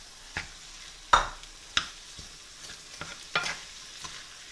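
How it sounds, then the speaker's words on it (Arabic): Mixed pastilla filling with parsley and minced meat stirred in a pan, several separate scraping knocks of the spoon spaced irregularly over a faint sizzle, close and quiet. "نخلط العناصر مع بعضها، نضيف أيضا اللحم المفروم"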